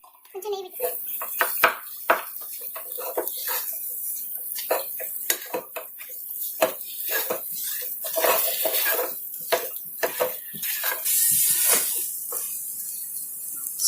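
Ghee-coated bread halwa stirred in a pan with cardamom powder, giving repeated close scraping and clinking of a spoon against metal with soft sizzle, under occasional speech.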